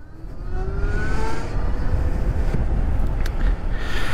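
Zero SR/S electric motorcycle pulling away in street mode, a steady low hum and rising whir beneath heavy wind rush and road noise, loud and continuous throughout.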